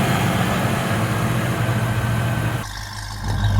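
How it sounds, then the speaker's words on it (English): A 1993 Ford Mustang convertible fitted with a Flowmaster exhaust idles steadily with a deep, low rumble close by, its tone dipping and thinning briefly near the end before returning. "The exhaust has a nice note. Gotta love those Flowmasters."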